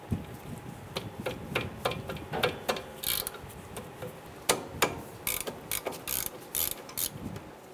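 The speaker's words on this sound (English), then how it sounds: "Remove these two 10mm bolts on your brake caliper. We're going to use our socket and ratchet." Socket and ratchet loosening the 10mm brake caliper bolts on a 1995–2001 Ford Explorer during a rear brake job, giving a fast run of close, sharp metallic clicks in uneven bursts with no talking.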